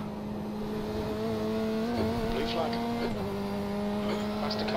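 An LMP1 prototype race car in iRacing at the 24 Hours of Daytona drones past with a steady, high engine whine whose pitch shifts as it goes by, under continuous background race noise.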